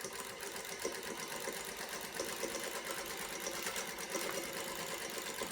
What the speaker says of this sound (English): So we're going to go and turning our needle down, rolling the foot towards us just to get started, and we'll start.